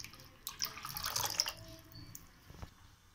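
Water pours into a pan holding yam pieces ahead of boiling, a soft splashing stream that swells and fades over a few seconds, with a brief clink near the end, close and quiet.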